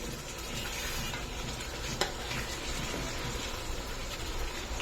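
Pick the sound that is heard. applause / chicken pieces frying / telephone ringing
chicken pieces frying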